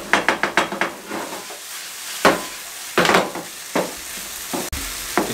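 Spicy masala pasta sauce with tomato ketchup cooking in a pan over low flame, a spoon stirring and scraping in quick clattering strokes with soft sizzling between, close and without voices.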